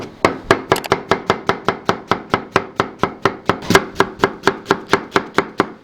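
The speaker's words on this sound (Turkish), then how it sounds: "Bir adet soğanımızı yemeklik doğrayacağız." Steady, even knife chops through an onion on a cutting board, about three or four per second, close and crisp, with no talking.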